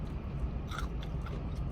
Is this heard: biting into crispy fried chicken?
yes